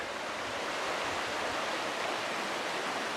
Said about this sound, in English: The West Fork's barely flowing.